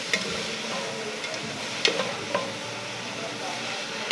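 Vegetables sizzle steadily in a hot pan while a utensil stirs them, a continuous frying hiss with occasional light scraping taps, close and fairly quiet.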